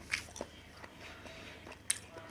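Close-up bites and chewing of a crab stick salad roll, soft crunches and wet squishy mouth sounds at an irregular pace in a quiet room.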